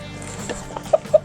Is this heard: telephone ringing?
no